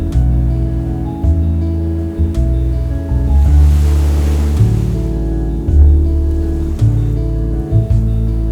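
Ocean surf rolls in at Kelingking Beach on Nusa Penida, Indonesia, a steady loud wash of waves with a swelling crash midway, heard alone without talk.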